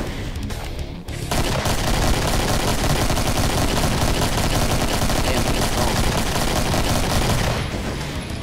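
Rocket launcher blasts and heavy combat fire in the Doom 2 video game, a dense continuous barrage of loud explosive shots running almost without pause after a brief quieter opening.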